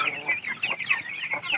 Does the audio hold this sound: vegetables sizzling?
no